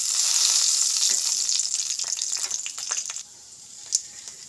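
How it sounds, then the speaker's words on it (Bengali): Whole garam masala, bay leaf, dried red chili and cumin seeds crackle loudly in hot oil, a dense close-up hiss that fades after a few seconds, leaving scattered pops. "এবার ফোড়নে গোটা গরম মশলা, তেজপাতা সব দিয়ে দেবো"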